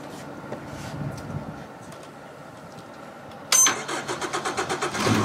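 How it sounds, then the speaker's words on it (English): A race committee boat's engine cranks and catches partway through, jumping from a low rumble to a loud, pulsing run with rhythmic throbs, close by. "Start the engine, step 10. Let's let the engine run for 5 minutes"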